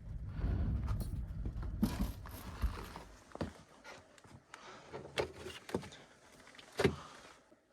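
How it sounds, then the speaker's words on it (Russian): A heavy sliding door in an abandoned factory rumbles along its rails, followed by scattered clunks and knocks as it moves and settles, fairly close. "Она ездит по таким рельсам."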